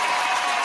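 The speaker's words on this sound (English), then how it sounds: "Round of applause for that." A studio crowd breaks into a steady round of applause on a hip-hop mixshow from Lawton, Oklahoma, sustained and fairly loud for the whole brief moment with no voices over it.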